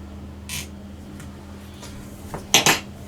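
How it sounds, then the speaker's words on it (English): A fork marks the mashed potato topping of a shepherd's pie in a dish: a few faint scrapes, then two sharper close metallic clinks near the end, with a low hum underneath. "with a fork, we just make a little mark again as we did with our cottage pie"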